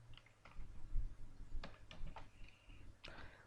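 Typing on a PC computer keyboard, a few scattered, soft key clicks in irregular bursts over a low background hum, fairly quiet and close, with no talking.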